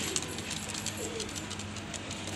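Pigeons, one of them fighting, coo softly over a steady low hum, a brief continuous stretch with no talk.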